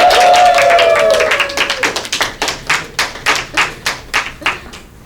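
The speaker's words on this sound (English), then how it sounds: "round of applause for living donor Miss Soaring Eagle for doing such an honorab" Classroom clapping honoring a living organ donor, starting as a dense burst under a fading voice, then settling into a dozen or so slow, distinct, evenly spaced claps, like a small group or a few people clapping in unison.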